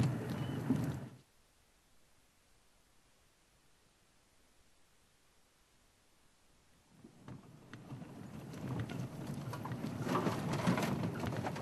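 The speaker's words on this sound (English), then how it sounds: "We've got some water dripping on us as well at the moment. Water being rain, I guess." Rain dripping onto a vehicle outdoors in the African bush, heard as a steady hiss of noise that is faint through the middle and grows louder and denser toward the end, with no talking.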